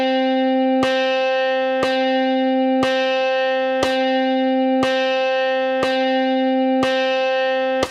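Electric guitar held on a sustained, steady chord for a slow 60 BPM rhythm exercise, each strum once per second with a sharp pick attack, eight even strokes, loud and close with no talking.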